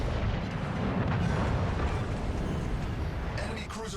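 Heavy 14-inch battleship guns firing in World of Warships Legends from the premium battleship Marlborough, a continuous loud, dense low rumble of cannon blasts and explosions filling the whole stretch, with a faint voice underneath.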